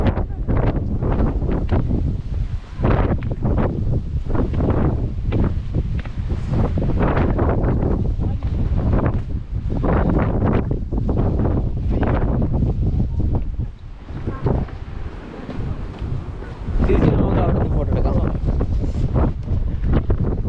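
Strong wind roars and buffets steadily for the whole stretch on the coast at Durdle Door, with gusts rising and falling and no clear voices.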